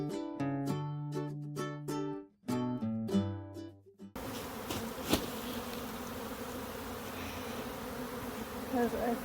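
Musical notes play briefly, then a steady swarm of honey bees hums and buzzes up close around hive frames, a dense droning layer.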